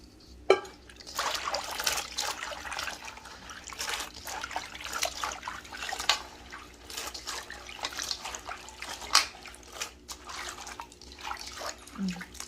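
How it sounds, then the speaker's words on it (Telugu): Water poured over broad beans being washed in a bowl, quiet and close: intermittent trickling and soft splashing with small sharp drips and clinks throughout. "ఇంకోసారి నీళ్ళు వేస్తున్నానండి"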